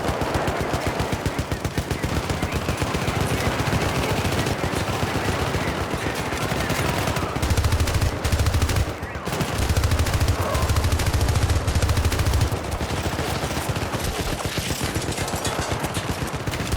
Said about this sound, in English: Oh, that turret's still right there, huh? I gotta not get shot by that.